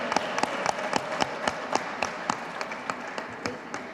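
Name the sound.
audience applause for children's skit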